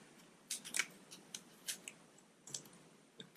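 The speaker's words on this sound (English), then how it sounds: "So now I'm going to take my tape off" Tape is peeled off a rail assembly with foil and wiring in a quiet room, making a handful of close, crisp, separate ticks and short crackles with small gaps between them.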